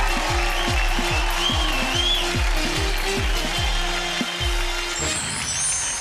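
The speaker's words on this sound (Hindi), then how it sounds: "कविता समाप्त हो गई, तालियां बजा दीजिए।" At a Hindi stand-up comedy show, an audience applauds after a poem, a dense, sustained wash of clapping that runs loud and unbroken, thinning slightly near the end.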